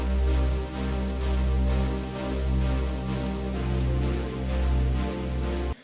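A sustained deep synth bass note sits under soft pad chords in a remix, swelling and dipping slowly, loud and alone without any talking.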